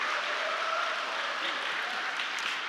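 Applause from a church audience after a worship song at an interdenominational women laity praise concert: a steady, even wash of many hands clapping, held at a moderate level throughout.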